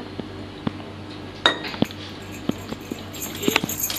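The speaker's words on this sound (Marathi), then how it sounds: "छान असे मिक्स करून घ्यायचं।" Curd and gram flour batter being whisked in a bowl, with irregular metallic clinks and taps of a utensil against the dish over a quiet background and no speech.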